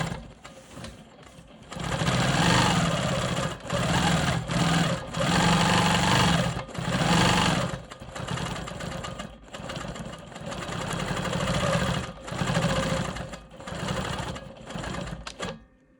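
A Quilt Maker Pro 20 quilting machine stitches straight horizontal and vertical lines across a quilt block, running in loud sustained motor bursts with brief stops and restarts between passes.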